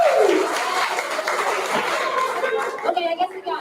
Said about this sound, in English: Let's give them a round of applause and take a picture